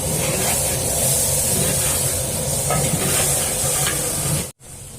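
Ginger garlic paste sautés loudly in a pan for vegetable biryani, a steady close hiss and sizzle filling nearly the whole stretch before a sudden brief cutoff near the end; no one speaks.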